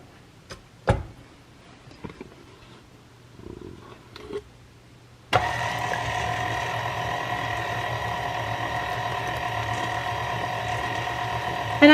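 A stand mixer fitted with a paddle blends lemon pound cake batter on low speed, switching on abruptly partway through and then running as a steady, close, whirring motor hum with a faint rhythmic churn after a few quiet handling clicks.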